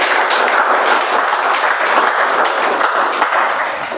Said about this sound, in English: that effort itself appreciates another round of applause